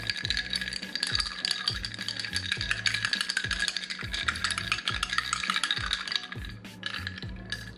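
A spoon stirs matcha in a cup, a steady rhythmic clinking and rattling of metal against the cup wall, close and fairly quiet, repeating for several seconds with no talking.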